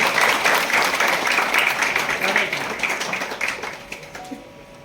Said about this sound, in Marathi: जरा सगळ्यांच्या जोरदार टाळ्या झाल्या पाहिजे